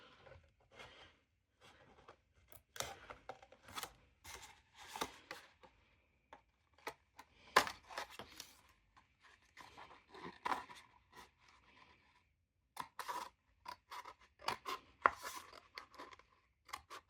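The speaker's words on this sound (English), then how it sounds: "And then cut it towards the cut line to be neater." Scissors cut around a paper cone template for a crochet angel light-up craft. Short crunchy snips come in uneven bursts, close and fairly quiet, with pauses between them.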